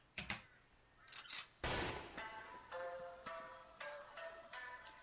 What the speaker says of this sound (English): I hear a gunshot sound.